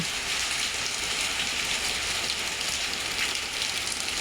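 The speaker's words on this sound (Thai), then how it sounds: "ฟังเสียงฝนไปด้วยกันนะคะ" Steady rain falls on leafy potted plants outdoors, a dense, even hiss of drops with no pauses and no voices.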